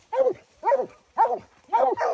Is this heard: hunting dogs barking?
yes